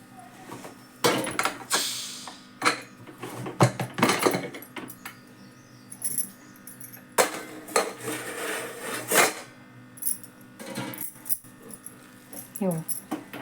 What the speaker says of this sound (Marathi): बघते आता उघडते कुकर